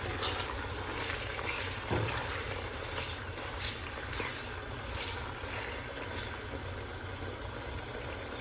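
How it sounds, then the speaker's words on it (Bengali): Small beef pieces coated in spices are stirred in a pan for Puran Dhaka-style beef tehari, making a faint, continuous low sizzle with occasional soft scrapes and clinks of the spoon against the pan. "এখন আমি মাংসটাকে সামান্য মিশিয়ে নিচ্ছি।"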